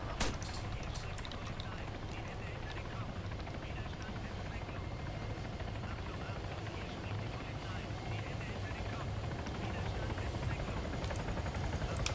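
Steady, loud helicopter rotor drone of a helicopter landing in an Arma 3 Altis Life server fills the whole clip, a dense continuous chopping roar with game sounds around it.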